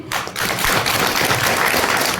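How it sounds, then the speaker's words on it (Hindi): Applause at a school farewell function welcoming the principal, a dense burst of clapping from an assembled group, loud and continuous for about two seconds before cutting off. "तालियों के साथ प्रिंसिपल मैम का स्वागत कीजिए।"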